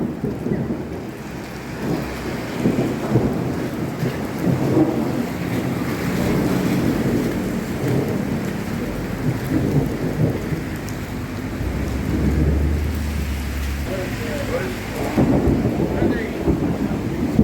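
A thunderstorm at Murwillumbah: heavy rain pours steadily and loudly throughout, with deep rumbling thunder rolling underneath, strongest around the middle and near the end.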